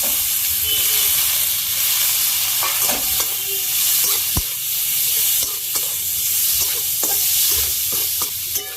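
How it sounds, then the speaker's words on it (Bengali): Raw tomatoes and turmeric going into a hot pan of oil, a loud continuous sizzle and hiss with scraping stirs and occasional utensil knocks up close. "এবার একটু হলুদ দিচ্ছি, এবার এই কাঁচা টমেটো গুলো দিয়ে দেবো"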